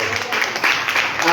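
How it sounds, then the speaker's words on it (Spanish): Congregation applauding at a church service, a dense, loud burst of clapping with voices mixed in. "Denle un fuerte aplauso al Señor"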